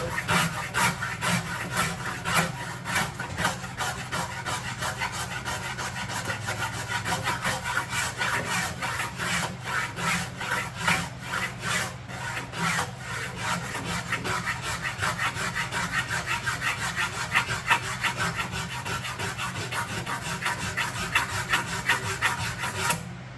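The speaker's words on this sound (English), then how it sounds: "now I'm going to use the aggressive side of the Shinto" Steady, aggressive rasping from the coarse side of a Shinto rasp working an octagonal wooden axe handle, with close, continuous scraping strokes in a quick rhythm for the whole stretch and no talking.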